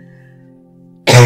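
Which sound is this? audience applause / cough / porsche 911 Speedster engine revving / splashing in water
cough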